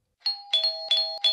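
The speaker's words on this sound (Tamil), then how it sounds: "ஏண்டா காலிங் பெல் அடிச்சிட்டே இருக்கேன்" A doorbell rings in a house, four bright electronic chime tones in quick succession, close and clear against silence.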